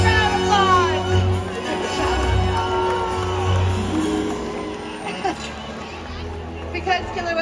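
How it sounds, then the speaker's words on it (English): Audience at a SeaWorld San Diego orca show applauding and cheering, a broad wash of clapping and crowd noise with children's whoops, loudest at first and then easing, with an announcer's voice over it. "Everyone give them a big round of applause."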